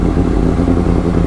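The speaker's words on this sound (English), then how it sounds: "Bike revs so high." A motorcycle engine revving high and loud at a superbike riding school, a steady buzzing roar held close up with no pauses.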